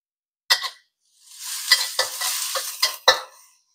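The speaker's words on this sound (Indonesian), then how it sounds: "Kita tumis lagi." Squid stir-fried with ginger and two kinds of chilies in a pan: a brief crackling burst, then a sustained sizzle with spatula scrapes and a sharp final stir before it fades.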